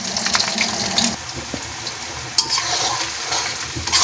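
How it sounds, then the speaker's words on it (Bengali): Chopped onion fries in a pan, a steady close sizzle with stirring scrapes and clatter over it, loudest at the start and near the end. "পেঁয়াজটা একটু ভাজতে টাইম নেব"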